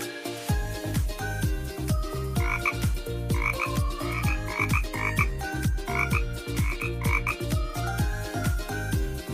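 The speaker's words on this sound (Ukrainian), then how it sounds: "Жабка каже ква-ква." A frog croaks over and over in a steady, loud rhythm, the calls running continuously with a busy chorus of croaks layered throughout.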